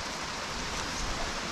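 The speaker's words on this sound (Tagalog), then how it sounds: "Grabe yung ulan." Heavy rain falls on a rainy day in the countryside, a dense, even hiss that stays steady and fairly loud, with no voices.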